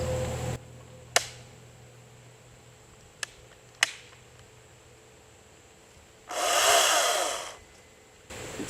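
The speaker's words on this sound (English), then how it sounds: "battery powered chainsaw that I was able to pick up down at Walmart" A Hart 40-volt brushless battery-powered chainsaw cuts through wood in a side yard, one steady quiet burst of about two seconds near the end, with a few sharp clicks and knocks earlier.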